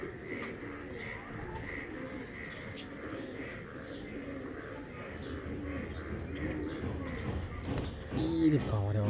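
Indian Kaldom pigeons cooing in a loft, soft repeated coos near and far over low background noise, with a brief louder rustle at the end.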